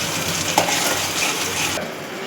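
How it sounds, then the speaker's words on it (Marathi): Onion fries in a pan in a dense, even sizzle that holds steady from start to finish, with a faint clink near the start and nobody talking. "कांदा छानपैकी आपल्याला गुलाबी रंग येईपर्यंत भाजून घ्यायचा आहे"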